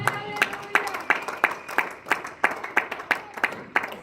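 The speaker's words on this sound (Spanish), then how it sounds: "Alguien de fuerte aplauso al Rey de la Gloria" A church congregation at a Bible study claps together in a steady, fairly loud rhythmic beat of sharp hand claps, roughly three per second.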